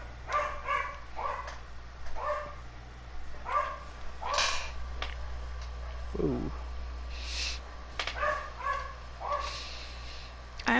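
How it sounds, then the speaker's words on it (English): A dog barks in short, repeated bursts at moderate distance, the yaps coming in uneven clusters with brief pauses, while a person murmurs a single exclamation in the background. "that barking's probably gonna go on for a little bit"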